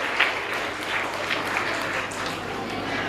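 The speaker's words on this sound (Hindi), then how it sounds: "जोरदार तालियों से इस्तकबाल करें।" Steady applause fills a hall as honored guests are welcomed onstage at an education and welfare society function, a dense continuous patter of clapping with no voices over it.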